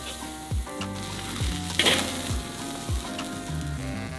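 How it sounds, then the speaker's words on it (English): A chocolate-rubbed smoked steak sears in a hot pan, giving a steady, close sizzle that runs throughout, with tonal background music on top. "Time to sear."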